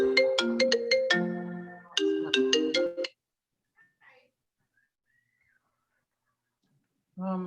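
A melodic phone ringtone chimes through an online township board meeting, two bright bursts of rising notes in quick succession, then silence before a voice starts.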